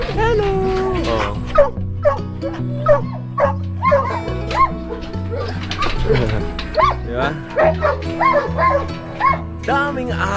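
Many large-breed dogs, Dobermans among them, bark in overlapping, repeated bursts at a big farm kennel in Bulacan, loud and close, with a person talking over the din.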